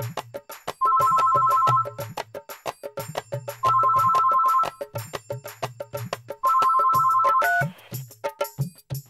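An electronic phone ringtone plays a repeating beeping melody over a steady rhythmic beat, with three long sustained tones in a regular pattern.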